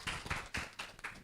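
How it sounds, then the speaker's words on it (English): Short bursts of clapping from a small audience at an international medical and health sciences conference after a keynote speaker, four or five clustered waves of claps over about a second, fairly faint. "Give the applause"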